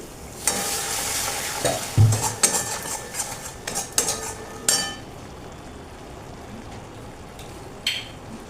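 Water splashing into a hot pan of white sesame potato curry (alur dom), with sharp stirring and utensil clinks against the pan over a soft sizzle, busy at first and then quieter with a few isolated scrapes.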